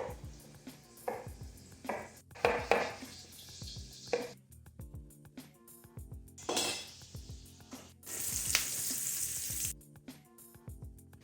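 Onion fries in a pan with an intermittent sizzle, broken up by utensil clinks and scrapes, louder hissing bursts near the middle and end, and quiet gaps between.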